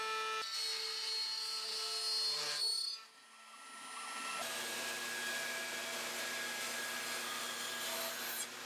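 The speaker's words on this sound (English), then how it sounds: "I ended up putting in a 3/4 inch round nose bit, and that's what ended up cutting that final portion of the pocket" A router fitted with a 3/4 inch round nose bit cuts a pocket into mostly end-grain wood for a gift box, a loud continuous whine that drops briefly midway and then runs steadily again.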